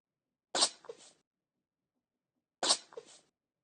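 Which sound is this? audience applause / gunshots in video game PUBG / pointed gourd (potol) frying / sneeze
sneeze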